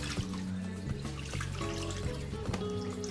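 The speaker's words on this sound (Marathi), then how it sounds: "पाणी पूर्ण नितारी लिहूत आपण आते" Rinse water drains and trickles steadily from washed potato peels in a kitchen, a continuous splashing flow with small drips and a few soft knocks, fairly close and with no talking.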